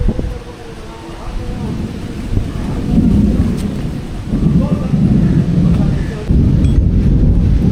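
Deep, low rumbling thunder rolls in long swells during a storm with lightning and a power cut, with a steady wash of wind and light rain noise throughout.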